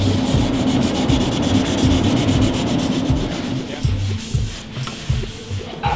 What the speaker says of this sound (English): giving a final sand on the bond joint to make sure that it's perfectly smooth and ready for paint